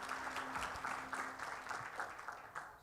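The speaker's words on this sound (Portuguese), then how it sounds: "Peço uma salva de palmas." An audience claps steadily at a financial innovation panel in Brazil, a dense wash of hand claps sustained without break, with no talking over it.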